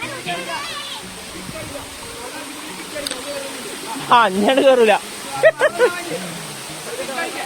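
Barod waterfall at Karuvarakund pours as a steady broadband roar of falling water, with nearby voices talking and calling over it.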